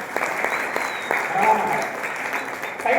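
An audience at a company event applauds a visiting CEO, a short burst of steady clapping with voices mixed in.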